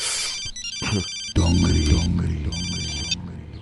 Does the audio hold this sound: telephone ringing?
yes